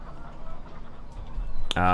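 Chickens cluck in the chicken fattening area of a Farming Simulator 2015 farm, soft clucking under someone talking, then a sudden loud squawk and harmonic call right at the end.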